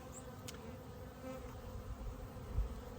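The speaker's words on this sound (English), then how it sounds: "you can see bees climbing around inside that area." Honeybees buzzing around a beehive at a beginner's backyard hive in Colorado, a faint, steady drone close up with no voices over it.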